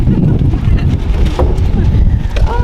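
Strong, gusty wind in Dubrovnik old town buffets the microphone with a loud, constant low rumble, while voices come through faintly underneath.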